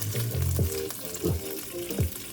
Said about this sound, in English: We'll get that a little sizzly.